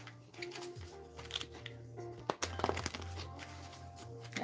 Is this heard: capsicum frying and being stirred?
no